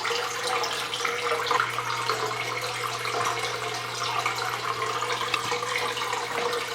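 Water runs steadily down in a continuous splashing stream, fairly loud and close, with a constant low hum underneath and no talk.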